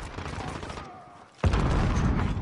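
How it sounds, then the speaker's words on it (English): A grenade blast in Call of Duty: Modern Warfare during a practice scrim: gunfire fades to a brief lull, then one sudden loud, deep boom hits and rumbles on, with a faint voice mixed under the din. "Oh, I just jumped into a grenade."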